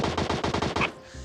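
Gunfire in the mobile battle-royale game PUBG Mobile: a rapid burst of about seven close automatic shots in quick rhythm, cutting off abruptly, with no talk.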